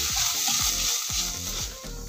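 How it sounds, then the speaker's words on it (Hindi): A tablespoon of flour is roasted in a pan for bread patties, giving a close, steady sizzle with repeated scraping strokes of a spatula at an even rhythm and no voices. "1 टेबलस्पून मैदा लेके आपको इसको 1 से 2 मिनट खूब अच्छे से भूनना है।"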